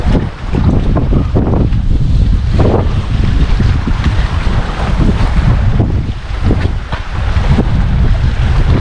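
Strong wind roars and buffets a microphone on a fishing boat out at sea, with waves and water churning beneath it, loud and continuous with no voices.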